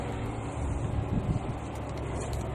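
Wind blows steadily across a microphone outdoors beside an 06 Monte Carlo in a conversion project, a dense, constant low rumble and hiss with no distinct events.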